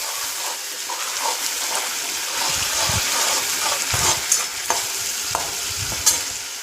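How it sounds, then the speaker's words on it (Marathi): Tomato puree stirred in a frying pan while cooking a brinjal and potato bhaji, giving a continuous loud sizzle with repeated scraping strokes of the spoon against the pan. "मिक्स करून घ्यायची चांगली"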